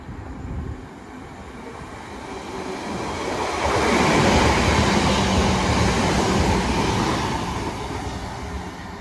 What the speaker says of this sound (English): Next train to zoom past is a class 323 going to Liverpool Lime Street.